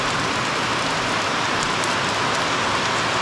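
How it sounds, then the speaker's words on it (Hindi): Heavy rain pours steadily at the Jaswant Garh War Memorial near Tawang, a dense, loud, continuous hiss of drops striking surfaces close by, with no voices. "अभी तो काफ़ी तेज है बारिश।"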